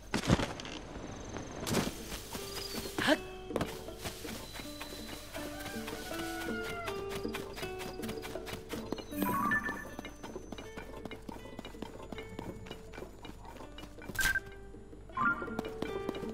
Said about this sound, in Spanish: Con mi caballito.